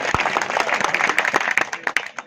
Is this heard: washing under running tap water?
no